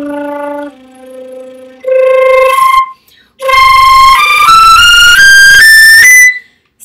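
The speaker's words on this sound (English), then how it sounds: "So the first one I'm going to start with is fluttertonguing." Flute playing a series of sustained tones with fluttertonguing, a buzzy rolled edge on each note, moving through rising pitches in loud bursts separated by short pauses, heard alone.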